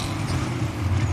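Onboard audio from a NASCAR race car at the Charlotte Roval, a steady loud, low engine drone that runs unbroken through the whole moment.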